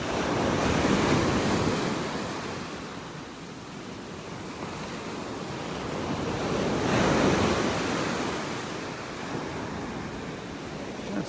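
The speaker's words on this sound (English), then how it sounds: "Listen to those waves pounding on the beach." Ocean surf rolling and crashing onto a beach in North Naples, Florida, in slow swells, with wind rushing across the microphone; no one speaks.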